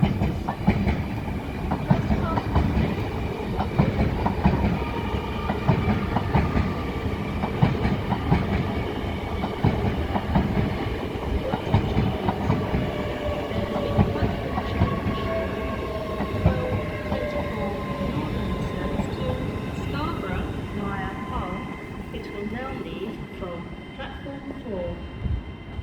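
Train at Doncaster railway station, a steady loud rumble of rolling wheels with clickety-clack and brake squeals throughout, fading slightly near the end.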